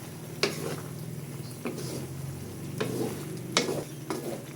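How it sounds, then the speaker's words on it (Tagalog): Chicken liver adobo with pineapple chunks simmering down in a pan, a constant close sizzle broken by several scraping stirs of a spoon against the pan at irregular intervals. "Haluin po ulit natin para magpantay ang lasa."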